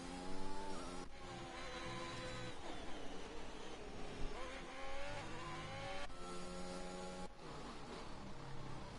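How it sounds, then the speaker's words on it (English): Several race car engines in a racing video game roar at full throttle, their pitches rising and shifting as they accelerate through gears, steady and loud from start to finish. "I like how all the cars sound different."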